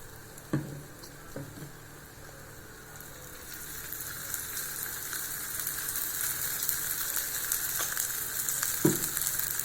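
Cassava adai frying in oil in a pan, a soft continuous sizzle with a few light taps and crackles, fairly quiet and steady, gradually rising slightly, with no talking.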